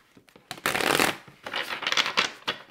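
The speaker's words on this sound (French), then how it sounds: "On va bien remuer les cartes." Tarot cards being shuffled by hand, a dense papery riffling that swells into a loud burst, then continues in several shorter ruffling flurries, close and without talk.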